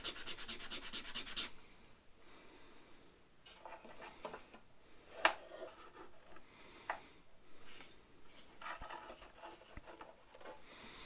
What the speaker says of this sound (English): when you're sanding these types of things, to take off just a little at a time